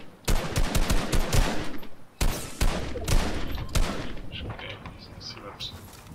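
Sniper rifle fire in Fortnite: a string of sharp, loud gunshot cracks, rapid at first, then a few spaced shots and fading echoes, with voices talking underneath.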